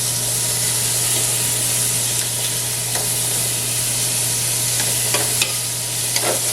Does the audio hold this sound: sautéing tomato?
yes